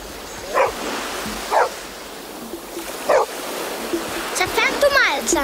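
A small dog from an animated film set by the sea gives a few short, separate barks and yips with a whimper near the end, over a steady surf-like background wash.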